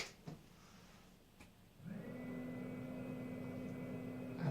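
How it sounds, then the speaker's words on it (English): A household recirculating hot-water pump switches on after a short quiet stretch, then runs as a steady low hum with a faint higher whine, continuous and moderately close, with a couple of small clicks beforehand. "And that sound is the recirculating pump."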